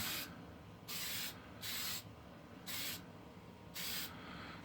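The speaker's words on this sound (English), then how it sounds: "We're gonna plasti dip the blade to seal it." Plasti Dip coating sprays onto a blade in four separate hissing bursts, each about half a second long, with short pauses between them and no talking.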